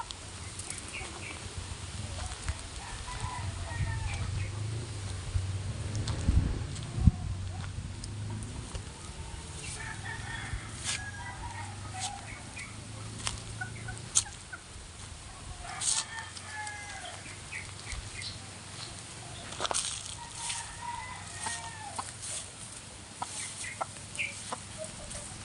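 Chickens cluck again and again in a backyard chicken coop, with a rooster crowing now and then, while a person talks softly and steps move around close by.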